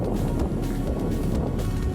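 Strong wind buffets the microphone in a steady, heavy roar with gusty surges throughout, loud and close, with no clear voices.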